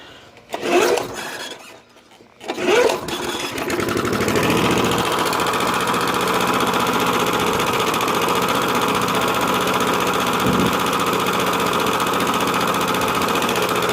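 A small gasoline engine with a choke is pull-started. Two short bursts sputter and die, then it catches near four seconds and keeps running at a steady, loud drone to the end.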